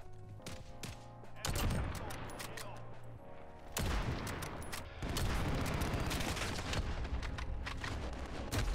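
Heavy gunfire in a Modern Warfare multiplayer match with a sniper scope. Loud, dense bursts strike at several points over continuous battle noise, close and booming.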